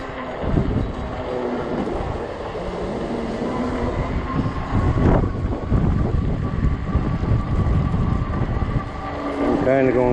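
Strong gusty wind roars across the microphone while riding an Ecotric 20-inch 48V fat-tire e-bike, a loud continuous low rumble with a voice faintly heard through it.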